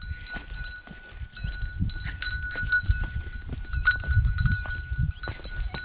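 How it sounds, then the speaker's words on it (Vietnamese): Goats driven along a rocky mountain path, with a steady mix of hoof clatter, shuffling and scattered bleats up close and a high ringing tone throughout, with no talking. "Được ngày để đi chăn dê đấy."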